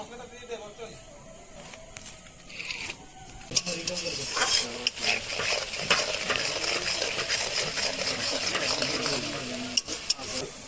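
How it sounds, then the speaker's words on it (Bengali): Onions frying for chicken curry at an outdoor night picnic, with utensil clinks and stirring over a steady sizzle, while voices chatter in the background. "আমাদের পেঁয়াজটা লাল করে ভেজে নিয়েছি আমরা"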